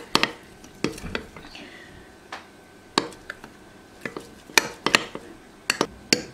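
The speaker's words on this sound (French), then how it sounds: "je remue bien les deux levains pour qu'ils soient bien mélangés ensemble" Sourdough starter being stirred together in a bowl, sharp clinks and scrapes of the utensil against the sides arriving in irregular bursts, close and fairly loud, with no talk.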